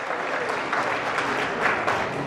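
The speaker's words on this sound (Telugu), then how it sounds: "ఒకసారి గట్టిగా చప్పట్లు కొట్టి జయజయలు పలకాలని కోరుతున్నా" An audience at a community service gathering breaks into steady applause. The sustained clapping sounds somewhat distant and even, with no voices standing out.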